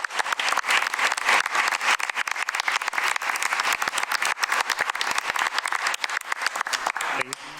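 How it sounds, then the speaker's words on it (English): An audience at a school board meeting gives a round of applause, dense continuous clapping at a steady level for several seconds before tapering off at the end. "I'd like you to give a round of applause to this."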